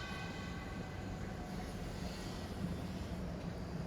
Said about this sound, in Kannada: ಈ ಲೇಕ್ ಮೇಲೆ ಬ್ರಿಡ್ಜ್ ಕೂಡ ಇದೆ. ಬ್ರಿಡ್ಜ್ ಮೇಲೆ ಟ್ರೈನ್ ಕೂಡ ಓಡಾಡ್ತದೆ